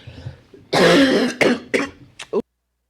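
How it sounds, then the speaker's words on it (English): One loud, close cough bursts out, followed by a few shorter coughs and throat-clearing sounds before silence. "I'm going to cough."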